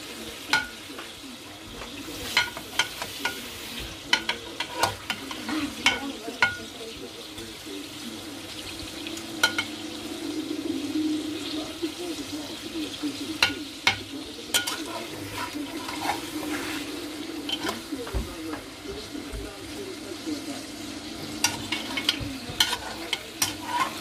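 Spices roast in a pan while making Baloch chicken, making a soft, moderate sizzle throughout. Frequent sharp spoon scrapes and clinks sound against the pan, with a brief mumbled voice now and then.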